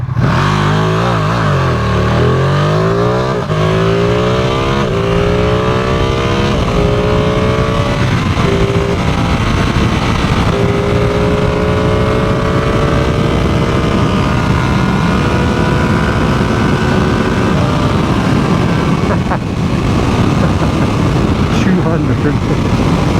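Motorcycle engine revving hard and accelerating through rising gears on an open road ride, loud and continuous throughout with a steady wind roar underneath.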